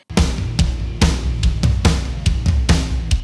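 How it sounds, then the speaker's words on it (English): A live drum kit plays a steady groove, with kick and snare hits roughly every half second and cymbal wash above, loud and close, joined by a low bass line. "Drums sound like this."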